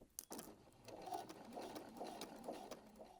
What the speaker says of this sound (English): we'll take it to our sewing machine to stitch it into place